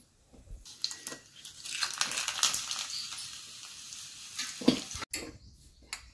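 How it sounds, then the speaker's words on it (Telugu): Grated raw mango hits a hot tempering pan for an Ugadi chutney, giving a quiet, close crackling sizzle with light stirring and a brief louder clatter near the end. "ఇంకా మామిడికాయ తురుము కూడా కొద్దిగా తాలింపు అయితే వేస్తున్నా."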